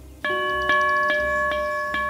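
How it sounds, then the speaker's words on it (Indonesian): A village bell rings urgently in five evenly spaced, ringing strikes about half a second apart, each bright tone overlapping the last, loud and close with no voices. "desa dibangunkan oleh bel yang berbunyi mendesak"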